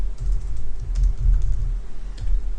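Code is typed on a computer keyboard, close and steady, with quick irregular keystrokes and soft thumps running throughout.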